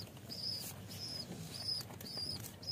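A large fancy desi pigeon flaps its wings in short bursts close by, several quick flutters at a faint level with a soft high chirp recurring between them.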